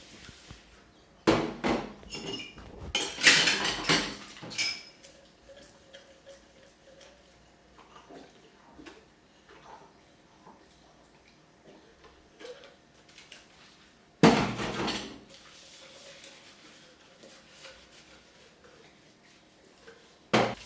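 Dishes in a home kitchen sink in Kenya clatter and clank in sparse, sharp knocks, with a dense burst early on and another around the middle, over a quiet room.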